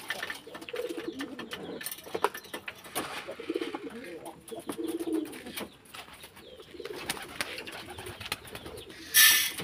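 Caged pigeons coo softly in low, rolling calls while being fed corn, with faint rustling and shuffling nearby and brief bits of background activity.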